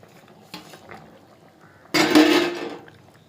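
Water goes into a pan of spiced egg curry in a brief, dense splashing gush near the end, after a few light clinks of utensils against the pan.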